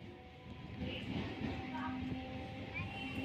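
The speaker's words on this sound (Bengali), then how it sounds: "ঠিক বারোটা পাঁচে আবার ট্রেন চলতে শুরু করল" A passenger train pulling out of a station on a rural line, with a low steady rumble of wheels and carriage noise that swells slightly after the first second and holds close and even throughout.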